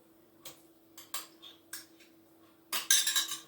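A spoon stirring tomato puree into Irish beef stew with beef stock in a pot, soft scattered clinks against the metal, ending in a brief louder clatter over a faint steady hum.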